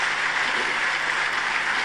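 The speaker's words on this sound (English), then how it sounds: "Let's give a big round of applause" Steady, dense applause from an audience at an awards ceremony honouring a legislative speaker, filling the whole moment with an even, continuous wash of clapping and no voices on top.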